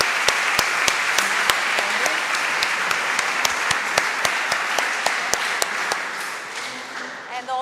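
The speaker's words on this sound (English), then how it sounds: "let's have a chance to applaud once more" An audience applauds presenters at a session, a dense, steady round of clapping with regular sharp claps cutting through, fading out near the end.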